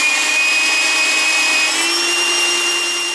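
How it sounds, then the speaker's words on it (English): A belt sander grinding down a metal part clamped in a vise during a guitar setup, a steady, loud abrasive whine with a high ringing tone that holds unbroken throughout. "And this belt sander will do a very, very quick job."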